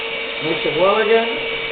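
An electric mixer whirs steadily through cheesecake batter close by, with a voice talking over the motor for most of the short stretch.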